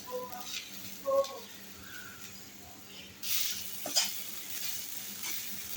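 Grated coconut filling for steamed modak sautéed in a pan, with light sizzling and a few scraping stirs of a spoon, some faint clinks, quiet and close.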